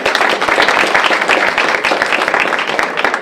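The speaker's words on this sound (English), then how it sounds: "I'm actually going to ask that we give Peggy another round of applause if we can." Audience applause at an art association's 50th show, a dense steady wash of many hands clapping close and loud throughout, with no talk over it.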